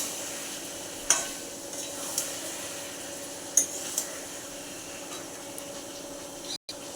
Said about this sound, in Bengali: মশলা দিয়ে আমি এবার চিকেনটাকে কষাতে থাকবো